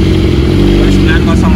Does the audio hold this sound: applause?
no